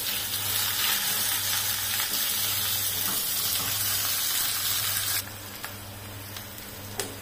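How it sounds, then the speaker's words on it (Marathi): Curry leaves and onion sautéing in a pan, a loud continuous hiss of frying oil that drops sharply in level near the end, with a few faint clicks afterward. "कढीपत्ता आणि कांदा छान असं परतायचं."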